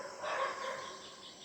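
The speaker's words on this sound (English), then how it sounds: "fascinated with the bird sounds wake up early in the morning" A rooster's drawn-out crow rings out in the early morning, a sustained tonal call over faint ambient background.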